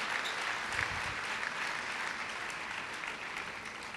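The audience at the Miss Côte d'Ivoire 2016 beauty pageant finale gives sustained applause for the organizing committee, an even, continuous roar of clapping heard from a distance and fairly faint.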